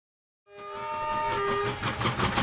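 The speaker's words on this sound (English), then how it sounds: "These two immense double-headed trains are passing one another at Galatasaray Station." Two huge double-headed trains pass each other at a station in China, starting with a sustained, tonal horn-like blare that fades into a broad rumble of rolling wagons and rhythmic rail clatter, with no voices.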